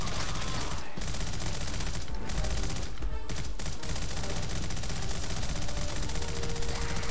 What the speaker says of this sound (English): Is that machine gun sound effect grating on anyone yet?